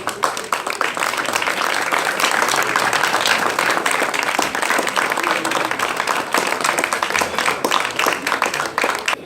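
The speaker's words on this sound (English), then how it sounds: "Let's have a round of applause for" An audience at a one-year anniversary event for a continuing education school on St. Maarten applauds steadily, dense clapping filling the room without pause.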